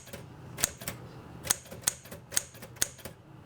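Keys strike on a typewriter in about six crisp, close clacks at an uneven pace, with a light mechanical ring on some strokes and no talking.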